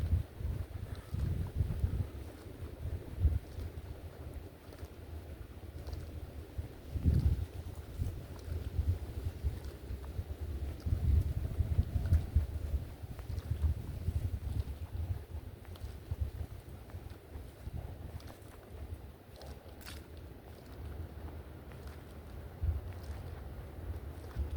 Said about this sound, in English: There's a lot of wind.